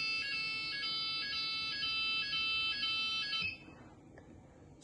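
An EMS Smartcell fire alarm system sounds its French fire evacuation tone, a bright, buzzy electronic tone pulsing in a steady repeating pattern for about three and a half seconds before cutting off to quiet.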